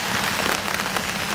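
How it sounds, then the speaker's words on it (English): Steady rain falling outdoors on an autumn day, a dense, continuous hiss of drops striking nearby surfaces with no voices. "We haven't had rain in so long, so it's actually quite nice to get out and be in the rain"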